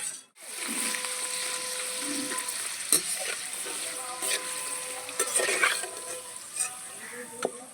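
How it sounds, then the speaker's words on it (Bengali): Crispy raw-potato kurkure strips frying in hot oil over medium heat, a steady close sizzle with occasional stirring clinks and scrapes throughout, no talking. "কতগুলো কুরকুরে ভাজা হয়ে গেছে"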